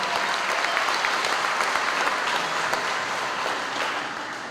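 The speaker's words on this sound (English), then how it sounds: "One more round of applause for our staff here at Struble." Sustained, even applause from an audience at the Struble Elementary ribbon-cutting ceremony, honoring the school staff; a dense crowd clapping close by that eases slightly toward the end.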